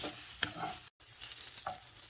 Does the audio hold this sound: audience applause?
no